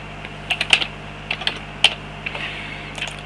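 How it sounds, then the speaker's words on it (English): A few scattered keystrokes on a computer keyboard, with light, crisp clicks in small clusters and gaps between them, close by over a quiet background hum. "We can just type in Ford there,"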